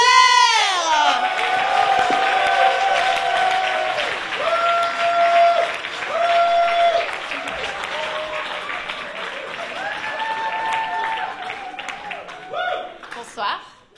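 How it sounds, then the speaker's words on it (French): Loud audience applause and cheering for a performer at a comedy stage show, dense clapping under sustained whoops and voices that carry on throughout before dying down at the end. "un tonnerre d'applaudissements pour Claire"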